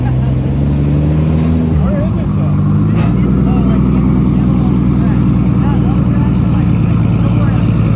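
A drift car engine roars loudly and steadily at close range, its pitch wavering as the car slides, with a voice faintly audible beneath.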